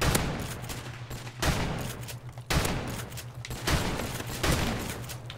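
Shotgun fire in Call of Duty Modern Warfare Remastered during a Gun Game match: loud, repeated blasts in close succession, several bursts spread across a few seconds with a steady rumbling bed between shots.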